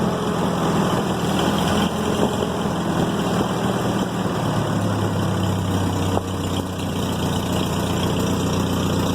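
A steady engine running continuously and loud throughout, with a constant low hum and some level shifts that may be surging at high throttle; no voices.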